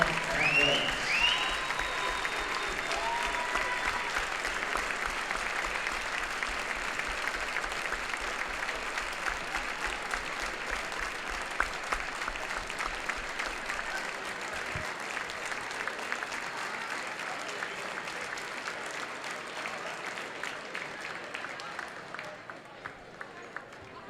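A basketball gym crowd at a Kahok boys game against Alton applauds in a long, steady round of clapping that fills the hall, slowly tapering toward the end, with faint voices mixed in.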